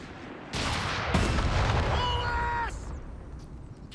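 A Company of Heroes 3 artillery barrage: heavy booming shell impacts burst in, followed by a second crash and a ringing, descending whistle tail before fading to rumble.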